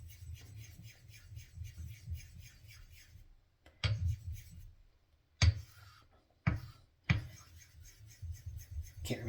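A straight razor strokes back and forth over a wet Japanese Mikawa Nagura stone, a quiet, rhythmic scraping in a steady series of passes, broken by short pauses and a few sharper contacts.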